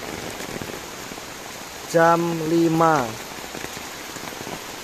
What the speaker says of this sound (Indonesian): Hujan lur, sore hari